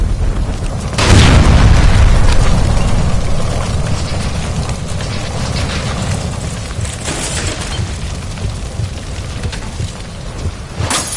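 A gas line by a stove explodes in L.A. Noire: a sudden heavy boom about a second in, then a loud rumbling roar of fire and debris that fades slowly and stays dense to the end, with no talking.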